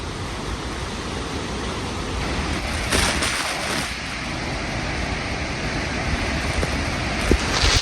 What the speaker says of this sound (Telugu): Beauty of nature, beautiful water fall.